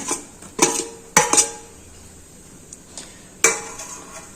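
Paneer stirred into sweetened milk in a pan for kalakand, heard as a few sharp metal clinks and scrapes of a spoon against the pan, separated by quiet pauses.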